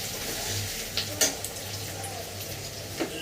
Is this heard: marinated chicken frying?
yes